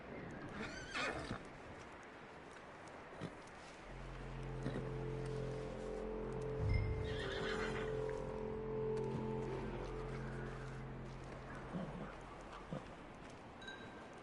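Horse neighing with hooves clip-clopping in the PS4 video game Red Dead Redemption 2, a whinny near the start followed by a long, steady tonal passage and a louder burst midway, with no talk.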